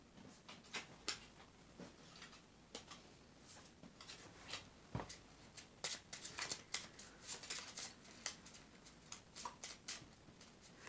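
Tarot cards being shuffled quietly and close, a run of soft irregular riffles and taps spread across several seconds, with no talk.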